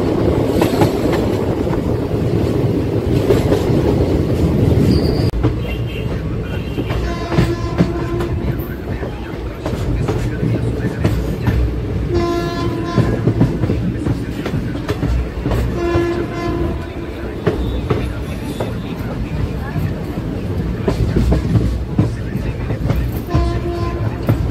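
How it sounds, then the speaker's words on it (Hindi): A Saharsa–Jamalpur passenger train crossing the Munger Ganga bridge, with a loud continuous rumble and rhythmic clickety-clack of wheels, the horn sounding several times, while a voice talks faintly over it. "और हमारी ट्रेन पहुंच रही है मुंगेर रेलवे स्टेशन।"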